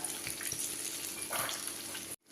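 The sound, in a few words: banana fritters frying in hot oil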